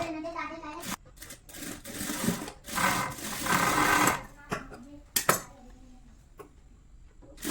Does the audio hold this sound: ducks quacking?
no